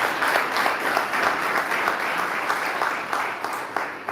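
An audience at a railway security and safety team launch event claps loudly and continuously, the close, dense applause holding throughout with slight swells.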